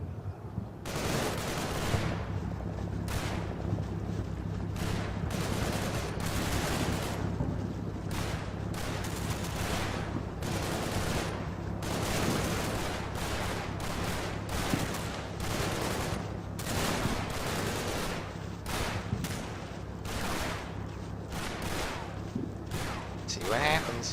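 Rifle and machine-gun fire in the WWII video game Combat Mission: Battle for Normandy, set at Neuville au Plain: repeated sharp bursts and single shots crack through the whole stretch over a low rumbling battle background.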